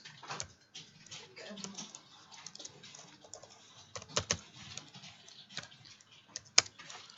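Fingers tap on a computer keyboard in an irregular patter of light clicks, with a few sharper keystrokes standing out over a quiet room.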